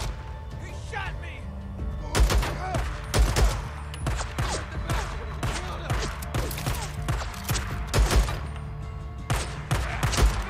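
Gunfire in the video game Days Gone during an ambush: dense bursts of shots and sharp impact cracks, with loud heavy reports around two, three and eight seconds, while someone talks over the firefight.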